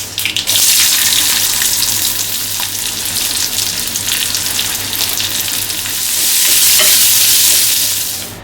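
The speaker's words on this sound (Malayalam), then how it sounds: "കുറച്ച് വെളിച്ചെണ്ണ ഒഴിച്ചിട്ട് നമുക്കൊന്ന് കടുക് പൊട്ടിച്ചെടുക്കണം" Mustard seeds spluttering in hot coconut oil in a pan that held roasted coconut, a loud crackling sizzle with stirring scrapes that swells again near the end.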